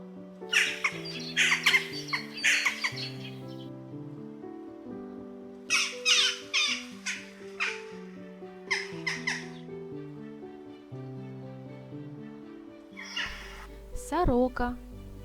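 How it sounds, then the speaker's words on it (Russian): Jackdaw, an urban corvid, giving short sharp clipped calls in quick bursts with pauses between, fairly close, over a soft musical background, with a brief higher squeal near the end. "Галка."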